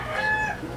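A short rooster crow sound effect, one clear cock-a-doodle-doo lasting under a second, loud and close with no talk.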